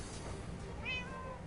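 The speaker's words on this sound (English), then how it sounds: "See, we got the little kitty coming." A cat in the Minecraft Tekkit modpack gives a short, clear meow near the end, rising and falling over a steady low background hum, with no talking.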